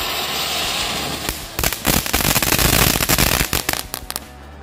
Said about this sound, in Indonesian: ini kita nyalakan mercon konik ukuran 3 guys